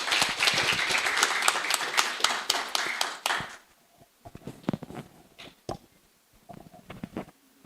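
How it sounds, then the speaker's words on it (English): An audience claps for a university dean at an international campus forum, a brisk burst of applause that fades after a few seconds into scattered taps and a few isolated claps. "Please give a round of applause."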